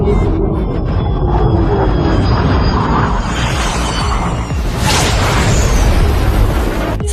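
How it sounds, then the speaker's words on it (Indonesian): A fighter jet streaks fast overhead in a film scene, a loud, continuous broadband roar with a rushing whoosh building near the middle and holding to the end. "saat jet tempur melintas cepat di atas"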